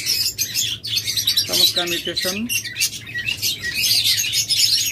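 A pair of cage birds, a local and Australian cross, chirp rapidly in high, dense twittering throughout, close and lively; someone speaks briefly over them.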